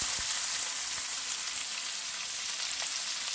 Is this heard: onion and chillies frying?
yes